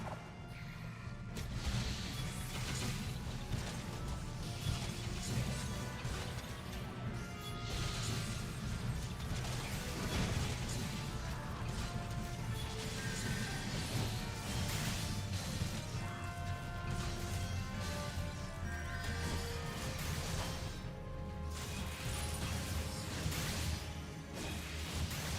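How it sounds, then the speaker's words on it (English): A winch mechanism turning in a Final Fantasy XIV dungeon, a continuous grinding, ratcheting mechanical rumble with creaks and clanks that runs steadily for the whole stretch amid background game sounds. "Okay, here's winch number 3."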